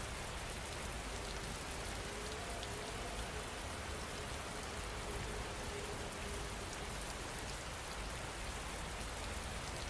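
Steady rain falls in a soft, even, continuous patter, faint and unbroken throughout with no voices.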